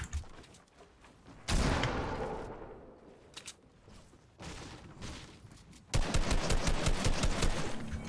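Rapid bursts of gunfire in Fortnite, loud automatic volleys starting and stopping, with a dense sustained stretch of shots near the end.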